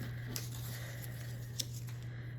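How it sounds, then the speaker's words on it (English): A few crisp snips of scissors cutting through a paper-pieced fabric snowflake block, spaced and brief over a steady low hum, close up with no talking. "So I'm just gonna cut this out."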